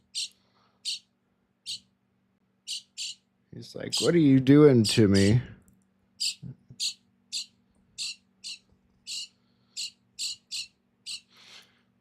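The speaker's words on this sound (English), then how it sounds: "I really do think it's a blackbird." A blackbird calls outdoors, repeating short bright chirps at a steady pace, close and clear, while someone talks briefly partway through.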